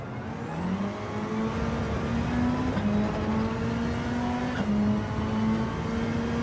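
A Mitsubishi race car in Gran Turismo 7 drones along at steady high revs, its engine tone climbing slightly, with brief shift dips and a constant whir of road and wind noise.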